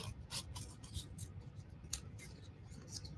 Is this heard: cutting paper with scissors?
yes